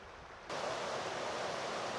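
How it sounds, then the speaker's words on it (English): Geraldine Creek, flowing lively in the Tehipite Valley backcountry, bursts in with a sudden steady rush of water after a quiet half second, holding dense and even to the end. "This Geraldine Creek is looking pretty lively."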